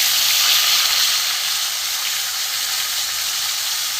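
Pieces of rohu fish fry in hot oil in a pan, giving a loud, steady sizzling hiss that runs unbroken and close without any voices.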